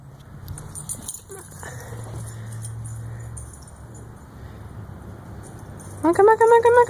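Dog playing with a ball, with soft shuffling and jangling near the start, then a sudden loud, high whine that rises at the end, close by.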